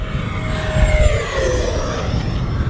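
A radio-controlled model jet roars past at full throttle outdoors, a loud broad rushing drone with a faint shifting whine as it passes, muddied by wind buffeting.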